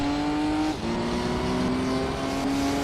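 A racing car engine in Gran Turismo 3, a loud steady high-pitched drone held near the limiter, with a brief dip and shift partway through as it carries on at speed.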